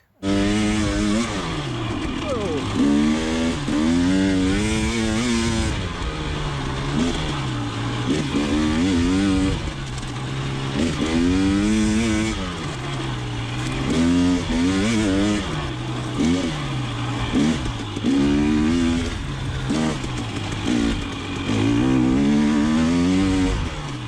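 KTM 300 TPI two-stroke motorcycle ridden at night, its engine close and loud throughout, rising and falling in repeated rev swells as it accelerates and eases off along the ride.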